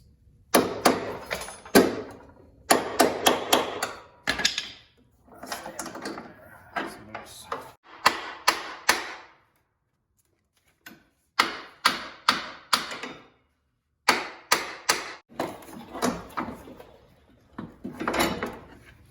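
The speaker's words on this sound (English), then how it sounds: "So I'm gonna tap this bolt out." A hammer taps a bolt out of a Corvette C5 lower control arm in repeated bursts of sharp metallic knocks, in irregular clusters separated by brief pauses, close and clear.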